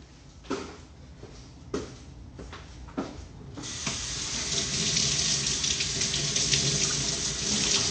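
A few knocks and clatters come first, then a tap opens and water gushes loudly and steadily into a sink while lettuce is being washed.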